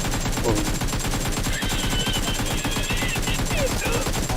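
Dense automatic gunfire in PUBG Mobile rattles in rapid, continuous bursts at close range, loud and unbroken throughout, with faint voices underneath.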